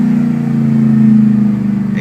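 A lifted 2010 Chevy Silverado pickup idles and revs through its aftermarket exhaust, giving a loud, steady, close rumble with a slight swell in the middle.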